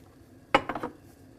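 Dry whole wheat pasta dropped into a metal pot, a sudden clattering rattle followed by a few quick settling clinks, close and alone.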